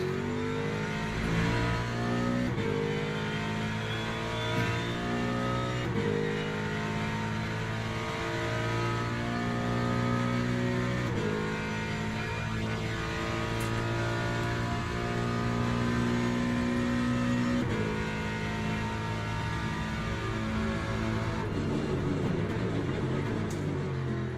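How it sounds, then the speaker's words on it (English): A Le Mans hypercar engine idles and revs in the pits in the Le Mans Ultimate racing game, giving a steady, buzzing mid-pitched drone with shifting tones that persists throughout without speech. "Sounds like a hypercar in the pits."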